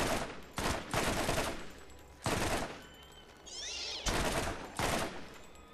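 Bursts of rapid automatic gunfire in the video game Borderlands, loud dense volleys in several separate bursts with short gaps between, a brief chirping effect in one gap.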